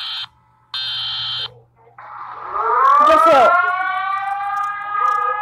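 A loud emergency alert system alarm: two flat, high-pitched buzzing tones, then a siren that swoops upward and holds a steady, piercing wail. A voice speaks briefly.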